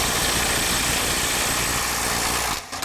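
A Snap-on mid-torque impact wrench runs at 250 foot-pounds in its highest power mode, mode 3, with a loud, continuous buzzing hammer close by that cuts off abruptly near the end.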